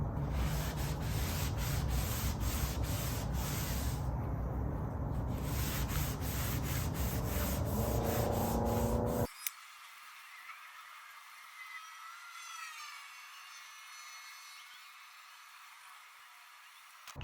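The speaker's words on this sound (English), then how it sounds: "I'm gonna use some degreaser. See if we can't get most of the rest of this off." Steady rubbing scrub of a brush on a Saab 9-3 wheel coated in degreaser, clearing brake dust, loud and continuous with rhythmic strokes for about nine seconds, then cutting to a much quieter ambient stretch.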